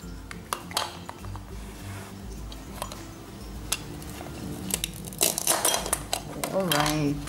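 A toy knife clacks and taps against a toy eggplant, a series of light plastic knocks and clinks, with voices talking throughout.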